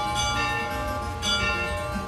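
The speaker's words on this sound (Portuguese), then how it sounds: "Ao soar os sinos, todos sabem que é hora de ir para a igreja." Church bells ringing in a largely Catholic town to call people to Sunday mass, with sustained overlapping metallic tones and a fresh strike about halfway through, with no voices.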